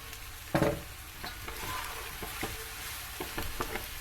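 Peppers sautéing in oil in a pan for homemade menemen, a continuous close sizzle with a sharp clatter at the start and scattered stirring scrapes, no talking.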